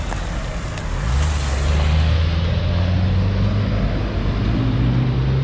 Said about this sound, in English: let these cars go through.